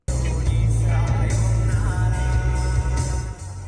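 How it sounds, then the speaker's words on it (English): A car cruises along a freeway in Japan, heard as a steady, loud low engine and road rumble with constant tire and wind noise that holds level throughout, with no talking over it. "This is me driving, by the way, on the freeway in Japan."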